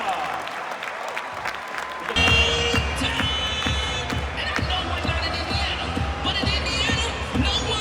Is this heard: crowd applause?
yes